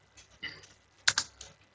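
Several light keystrokes tap on a computer keyboard, ending in a firmer double press of the Enter key, quiet and close in an otherwise silent room.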